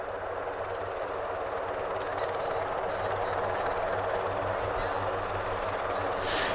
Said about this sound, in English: Meanwhile, I can hear the other Osprey.